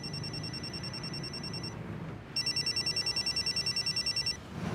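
A telephone rings on an outgoing call, a thin electronic trill that sounds once, pauses, then trills again in a rapid pulsing burst over faint background hiss.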